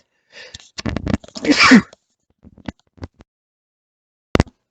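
A single loud sneeze with a sharp intake of breath, followed by a few faint clicks and a brief thump at the end.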